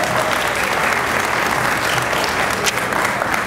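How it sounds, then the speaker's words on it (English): A large crowd at a talent show in Ocala gives loud, dense applause that holds steady throughout. "Let's go ahead and give a round of applause for Mr. Corey Poole."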